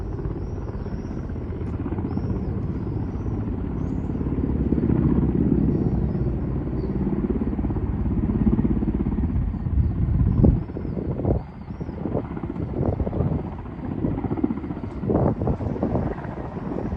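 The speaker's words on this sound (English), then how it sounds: "2 Russian Ka-52 and Mi-8 helicopters in the Donbass." Russian Ka-52 and Mi-8 military helicopters fly over the Donbass, a steady low rotor rumble with wind buffeting the microphone, growing louder midway and then giving way to sharper thumps and gusts.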